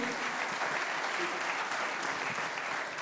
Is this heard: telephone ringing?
no